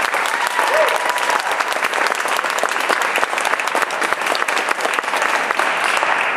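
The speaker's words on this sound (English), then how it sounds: "I think he deserves a round of applause." Steady, dense audience applause for a musician who wrote a piece, continuous crowd clapping at even loudness throughout with no pauses.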